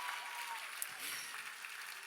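Audience clapping at a benefit auction after the fundraising total reaches $250,000, a steady, dense patter of many hands at moderate distance that holds evenly throughout with no voices over it.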